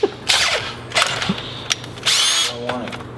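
A drill boring into the steel body of a Beetle during a 13B rotary turbo engine swap, heard in several short, loud whining bursts with grinding pauses between them, close by and mixed with brief talk.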